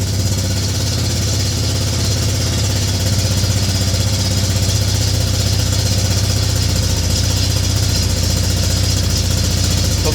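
A Yamaha Grizzly 600 ATV with a freshly cleaned carburetor idles steadily to warm up, a loud, close, even engine rumble with a constant low throb running unbroken throughout.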